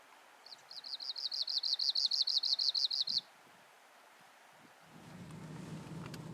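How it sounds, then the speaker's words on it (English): An Arctic warbler sings a fast, rhythmic trill of a dozen or so bright repeated notes lasting a few seconds, clear and fairly close, over low wind and distant rumble that swells toward the end. "And best of all, a singing Arctic warbler."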